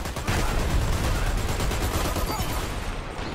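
Gunfire in the shooter game Dirty Bomb, rapid repeated shots in a dense, loud burst that keeps going almost the whole time, easing slightly at the end.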